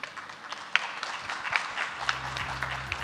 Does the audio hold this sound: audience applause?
yes